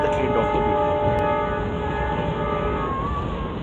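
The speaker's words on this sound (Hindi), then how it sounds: "अब थोड़ी देर के लिए हम रेलवे का साउंड एंड चुगिंग एंजॉय करते हैं" A train runs along a doubled railway line between Satara and Miraj. Its rumble is loud and continuous, with steady tonal whines from the engine, and a brief sharp click is heard near the start.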